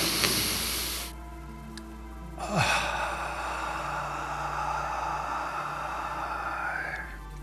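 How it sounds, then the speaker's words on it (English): A deep breath drawn in through the nose during a guided breathing session, one long airy inhale close to the microphone, alone against a quiet hum. "Nice deep breath into the nose."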